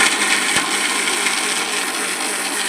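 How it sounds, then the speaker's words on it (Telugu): A mixer grinder jar blends an egg mixture, a steady, loud whirring drone that runs continuously with no pauses. "ఇప్పుడు మనం మిక్సీ జార్లో బ్లెండ్ చేసేద్దాం."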